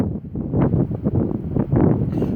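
Gale force wind buffets the microphone in loud, uneven low-pitched rumbling gusts that surge and ease with no other sound.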